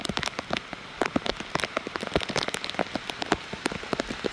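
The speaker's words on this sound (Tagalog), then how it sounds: "It's raining." Steady rain falls on a surface at a family cabin stay, giving a dense patter of close drops that continues evenly with no voices.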